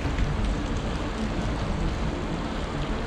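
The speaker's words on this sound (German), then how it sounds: "Wieder einmal regnet es." Steady rain falls hard and close during a trip past Lietzen in Austria, a dense continuous patter with no voices.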